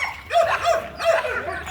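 American pit bull terriers bark and yip while playing, a few loud, close bursts of barking separated by short gaps.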